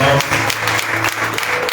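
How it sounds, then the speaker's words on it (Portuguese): A church congregation claps in praise at an evangelical service, a short spell of steady, fairly loud applause with a voice faintly audible underneath. "Dê uma salva de palmas ao Senhor, irmão."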